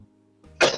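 A single short cough bursts out abruptly near the end after a quiet stretch. It is close and fairly loud, with only faint low background hum before it.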